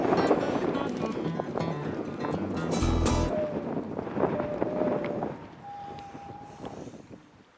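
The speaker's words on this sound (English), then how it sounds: "Too much wind out here." Strong wind blows outdoors on a fishing boat, buffeting the microphone with a loud, rushing rumble that eases somewhat in the later part.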